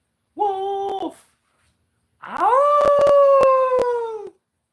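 A person imitates a wolf howl during a live stream: a short sustained howl, a pause, then a longer, louder rising-and-falling howl, with sharp clicks over the second one.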